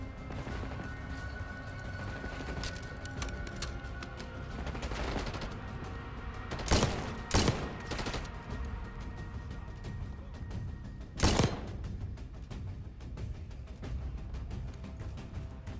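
Gunfire in Call of Duty: Black Ops 6 campaign play: a low rumble of battle broken by a handful of sharp, loud shots, two close together and another a few seconds later.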